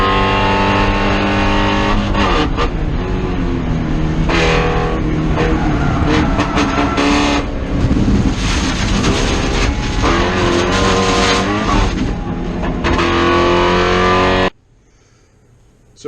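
A race car driven hard through a corner at turn 10 of a track, heard from a rear-mounted camera: a loud, continuous engine roar with rising and falling revs and shifting pitch, then a sudden cut to near silence at the end.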